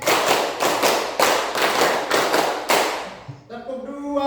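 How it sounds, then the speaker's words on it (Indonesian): Schoolchildren in a classroom clapping a five-beat pattern twice, sharp unison claps in quick even bursts, loud and close, ending abruptly as a voice starts speaking. "tepuk 5 2 kali"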